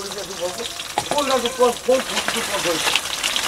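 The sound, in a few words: cooking on a clay stove over a wood fire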